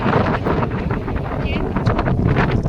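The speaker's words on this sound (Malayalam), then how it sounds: "ക്ഷേത്രത്തിൽ എന്നെ കാറ്റ് കൊണ്ടുപോകുന്നതാണ് എനിക്ക് തോന്നുന്നത്" Strong wind buffets the microphone at a temple in loud, gusty rumbles, roaring steadily throughout with faint background sounds beneath.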